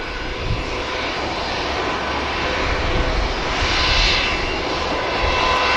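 A Pegasus airliner holding before departure at Manchester Airport makes a continuous engine rumble and hiss, steady and fairly loud, swelling slightly near the end, with no voices.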